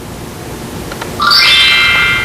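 A quiz software correct-answer sound effect: a bright chime-like tone rises out of a soft hiss, rings briefly and sustains to the end, loud and alone without speech.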